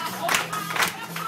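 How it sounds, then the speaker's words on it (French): An audience at a hypnosis show applauds in steady bursts, with crowd noise and faint cheering running through the short stretch. "déhanche-toi et le public t'applaudit"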